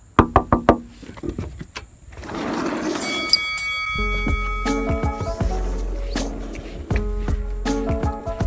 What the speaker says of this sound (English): I'm gonna knock when he's ready.